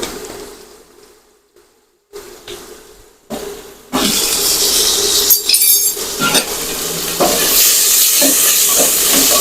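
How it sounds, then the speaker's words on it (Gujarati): Mustard seeds and cumin crackle in hot oil for a tempering, starting as a quiet sputter and then bursting into a loud, continuous sizzling hiss with scattered pops. "અહીંયા રાઈ જીરું કકડી ગયા છે તો આપણે હિંગ નાખીશું મીઠો લીમડો નાખીશું"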